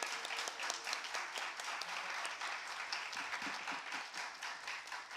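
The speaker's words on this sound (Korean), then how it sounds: "나오실 때 여러분들 큰 박수 부탁드립니다." Steady applause from a church chapel congregation welcoming new staff members, a dense continuous wash of many hands clapping throughout at moderate distance.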